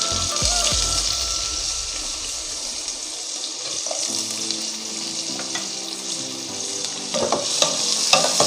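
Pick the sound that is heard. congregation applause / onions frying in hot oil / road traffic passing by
onions frying in hot oil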